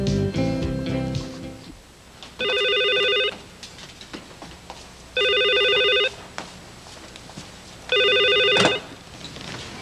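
A telephone rings three times in evenly spaced trills of about a second each, loud and close, with a short burst of music at the start and quiet room noise between the rings.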